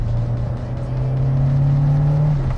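A VW Polo G40 engine pulls hard in third gear, its tone climbing steadily in a loud, close, sustained drone before easing off near the end.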